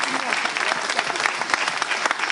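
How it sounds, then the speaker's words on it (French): An audience at a slam poetry event in Togo breaks into dense, energetic applause, many hands clapping loudly and continuously with voices and cheers mixed in. "je crois quand même qu'ils méritent un grand applaudissement du public"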